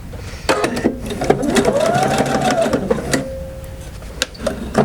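A sewing machine stitches fabric for bias tape, running in a fast steady whirring burst with clicking needle strokes, close and loud, then slowing and stopping near the end.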